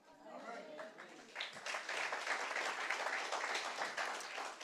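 Applause from a church congregation, a dense crowd of clapping that swells after the first second and holds steady, with some voices mixed in.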